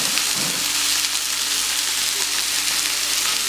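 Ground ginger and white pepper sizzle and fry steadily in a hot pan for a chicken curry, a continuous close crackling hiss with no talking.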